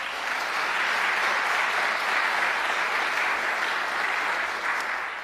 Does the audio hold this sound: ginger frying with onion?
no